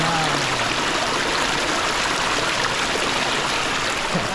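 A stream of water runs steadily at a scenic outdoor spot, a constant broadband rushing and trickling that stays even throughout with no voices.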